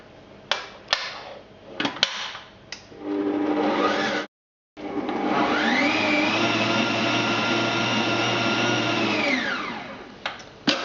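Electric whisk beating butter and sugar in a bowl for Battenburg cake batter, a few clattering knocks before a loud steady motor whir that briefly cuts out, restarts and winds down, close up with no talking.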